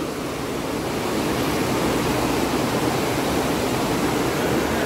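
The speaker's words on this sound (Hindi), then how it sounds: "काफी साउंड आ रही है पानी की।" Tiger Waterfall in Chakrata, with water crashing down from a height in a loud, steady roar of broadband rushing noise, constant and close with no voices.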